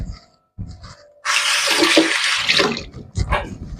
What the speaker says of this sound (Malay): Dan tambahkan air.